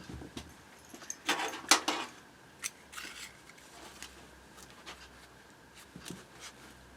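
Scissors snip through kids' LED Skechers sneakers in a few close, crisp bursts clustered in the first seconds, followed by quieter scattered handling and rustling of the shoe material.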